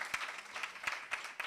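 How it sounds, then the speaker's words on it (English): Scattered, thin clapping at a graduation ceremony, a small group of hands striking in loose, uneven bursts, fairly faint and brief with gaps between the strokes. "still give her a round of applause"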